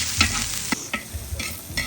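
Onions sizzling in hot oil in a pan while cooking dinuguan, with a steady fry hiss broken by several sharp scrapes and clinks of a spoon stirring.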